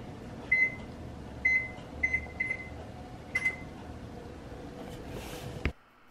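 Oven controls being set for baking baguettes, a series of short electronic beeps, single and in quick pairs, over a low room hum, then a louder button tone before the hum cuts off.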